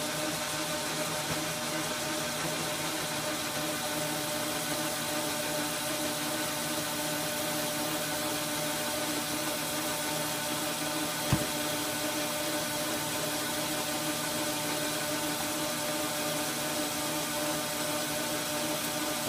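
Metal lathe turning down the shank of a dovetail cutter at 400 RPM with a fine feed, a steady mechanical hum with tonal whine running throughout, one brief sharp click partway through, no talking.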